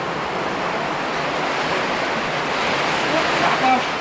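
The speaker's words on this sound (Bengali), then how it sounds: "বাইরে দেখুন তুমুল বৃষ্টি, বজ্র হচ্ছে" Heavy rain pours over the Shitalakshya river near Taraganj bazar, a dense, even roar of downpour that stays loud and steady throughout.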